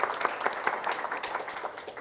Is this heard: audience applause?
yes